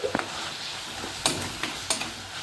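Tomato, tamarind and salt are sautéed in a pan for onion chutney, giving a close, steady sizzle broken by several sharp scrapes and taps of stirring, with no voices.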